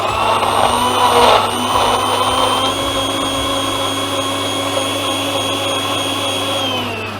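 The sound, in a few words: mixer grinder blending beetroot and spinach juice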